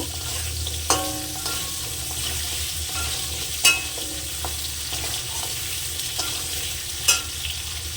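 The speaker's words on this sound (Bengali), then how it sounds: "আলুটাকে আমি হালকা একটু ভাজা" Potatoes fry lightly in hot oil with radhuni seeds in a pan, giving a steady soft sizzle broken by a few sharp clinks of a spatula, close up with no talking.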